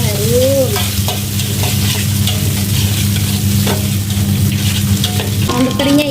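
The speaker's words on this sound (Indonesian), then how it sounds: "pertama-tama saya masukkan bawang merah, bawang putih dan juga lengkuas. Kita tumis sampai benar-benar bumbunya harum" Shallots, garlic and galangal sizzle loudly in a pan at a small food stall, a steady close frying hiss broken by repeated scrapes and stirring knocks of a spatula.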